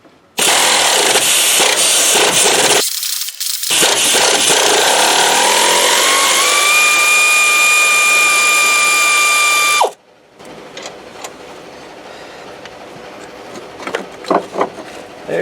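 Power tool removing an old motor mount from a 2012 Ford Fusion, loud and close, running in long bursts with a rising whine and a brief pause, then cutting off to quieter clanks and shop noise.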